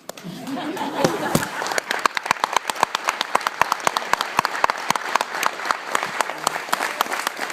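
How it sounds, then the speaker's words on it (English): An audience at a drag racing banquet applauds with sharp, individual claps that stand out in an uneven rhythm, with some chatter and laughter mixed underneath. "a round of applause for all the mothers out here that make this special"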